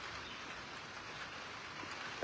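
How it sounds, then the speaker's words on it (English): Rain falls steadily as a faint, even hiss of drops, with a small knock at the very end and no one speaking. "So I'm happy about this rain."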